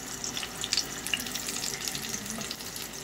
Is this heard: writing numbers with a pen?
no